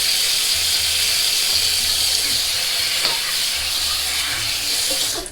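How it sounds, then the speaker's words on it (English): Cold water runs from a tap to rinse the face after a wet shave, a loud, steady hissing stream that carries on for several seconds. "Just use some cold water and we'll wash everything down here."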